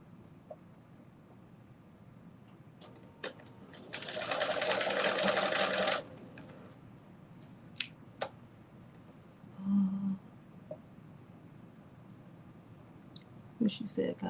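Sewing machine stitching pleats in fabric runs in a brief steady whir of about two seconds, with a shorter burst later and quiet clicks and handling between, while people talk softly.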